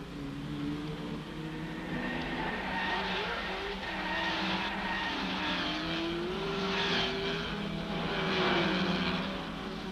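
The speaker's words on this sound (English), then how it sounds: "The big GTs make a splendid spectacle at Rouen." Big GT race cars of 1964, Shelby Cobras, Ferraris and Porsches, roar past at the Rouen circuit during the Tour de France Automobile, engines rising and falling in pitch as they sweep through at steady, loud, moderately close range.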